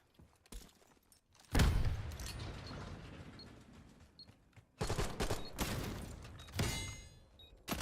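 Gunfire in a video game of the Demolition mode, with several sharp, loud shot bursts separated by quieter stretches of mechanical clicks and ambience.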